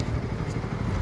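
A KTM Duke 390 motorcycle engine runs steadily for a second, a close, continuous low rumble with a slight clatter, heard alone and at an even level, at a helmet awareness rally from Coimbatore to Ooty.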